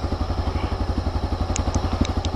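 Motorcycle engine idling in a video game, set in a dark place: a steady, rapid low chugging pulse held close and fairly loud, with a few faint high clicks near the end.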